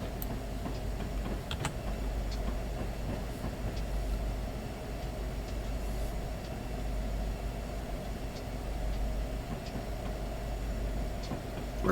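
A coal train rolling along in Train Simulator 2019 on the Union Pacific Pleasant Valley Coal route: a steady, low rumbling drone with faint ticking and clicking on top, moderately quiet and continuous, with no talking.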